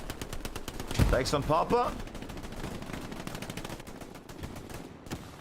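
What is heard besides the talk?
gunfire in the video game Hell Let Loose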